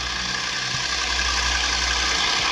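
A dragster's engine idles steadily with a loud, continuous low rumble and a constant roar, with no talking over it.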